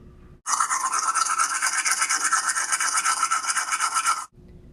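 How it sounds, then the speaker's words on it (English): Melted butter brushed onto lobster tail meat, a close, steady scratchy bristle rubbing that lasts about four seconds without pause. "Brush each portion of tail meat with 1 teaspoon of melted butter lightly."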